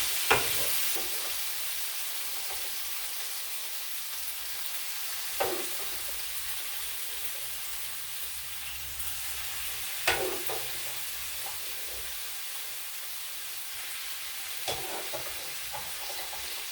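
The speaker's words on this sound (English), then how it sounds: "you just mix the bacon in a bit." Bacon stirred into a potato dumpling mixture frying in a pan: a continuous sizzle with a few sharp utensil clacks spaced several seconds apart, close and clear.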